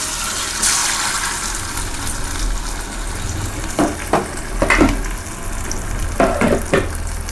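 Vanjaram fish fries crisply in hot oil, giving a steady close sizzle with a few brief clinks and stirring knocks near the end.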